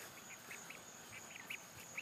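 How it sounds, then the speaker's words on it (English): Baby ducks peeping and quacking in soft, short calls scattered every quarter to half second, fairly faint over a low background hiss. "Baby ducks in training."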